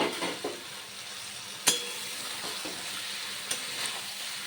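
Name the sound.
potatoes and pointed gourd sautéed with spices in a pan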